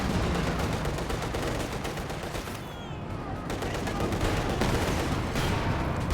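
Dense, continuous gunfire and artillery bursts in a Company of Heroes 2 battle, an anti-tank cannon among them, with rapid overlapping shots filling the whole stretch at steady loudness.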